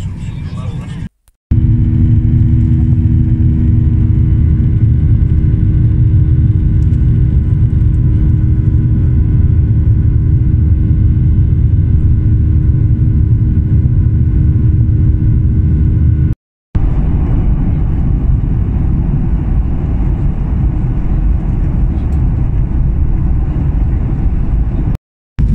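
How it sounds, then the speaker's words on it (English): Inside the cabin of a Jet2 airliner at Newcastle Airport, a loud, steady low engine roar fills the space during takeoff, with a brief break partway through. "There we go, getting ready for takeoff."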